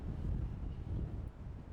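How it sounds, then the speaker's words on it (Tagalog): A short stretch of wind on a bridge in a Burlington botanical garden rumbling against the microphone, low and blustery, with no voices. "Sarap ng hangin dito."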